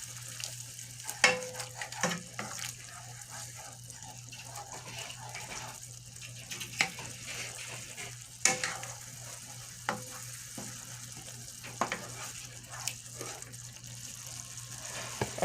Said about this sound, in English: And then I stir.